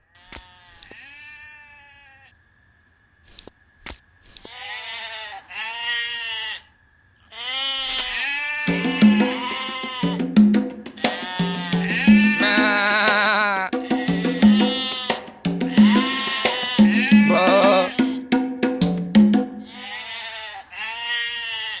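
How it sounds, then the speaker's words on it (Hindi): Goats bleating loudly and repeatedly, several animals calling over one another in overlapping wavering cries that grow busier after a quieter start, with a few sharp knocks between calls. "जाकर देख तो बकरियां क्यों चिल्ला रही हैं।"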